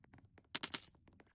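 Coins collected in the Roblox video game ring out as a quick burst of bright metallic clinks, fairly quiet and alone, with a few soft taps around them.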